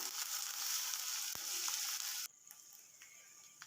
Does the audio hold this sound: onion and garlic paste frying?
yes